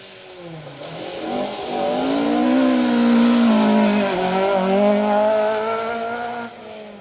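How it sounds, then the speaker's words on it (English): A Mark 1 twin cam rally car on a stage of the Trackrod Rally, a BTRDA Rally Series event, its engine climbing and dropping through loud revs as it drives past close by for several seconds, with no talking. "Dave Watkins, David Shepherd in the Mark 1 twin cam."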